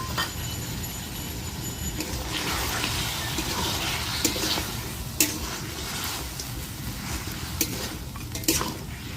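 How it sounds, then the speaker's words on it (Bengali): Mutton pieces with spices and a splash of water sizzle in a pan while a spatula stirs and scrapes. The frying hiss is continuous, broken by several sharper metallic knocks against the pan, with no talking. "এবার আমি এটাকে একটু কষিয়ে নেব।"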